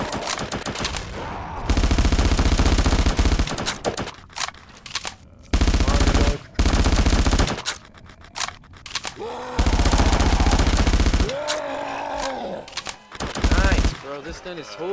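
A gun fires in bursts of loud rapid automatic shots separated by short pauses, with a voice heard between the volleys.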